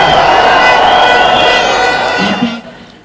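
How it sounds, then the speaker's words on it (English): A large crowd at a presidential NDC rally in Ghana cheers and shouts loudly, a dense roar of voices that swells and then fades toward the end. "The president led the crowd on as he recited his new slogan, JM Tuaso, meaning JM Continue"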